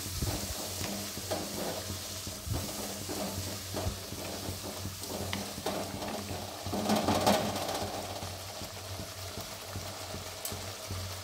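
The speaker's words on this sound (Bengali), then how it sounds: "সামান্য একটু জল দিচ্ছি, নাহলে মশলাটা পুড়ে যাবে।" Spices frying in a pan for Bengali mochar ghonto with coconut, a steady sizzle under stirring that swells briefly louder as water is added, close and moderate in volume.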